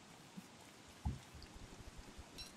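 Soft, steady rain patters in the survival video game Don't Starve. The hiss of falling drops is faint and continuous, with a few scattered louder drips and no talk.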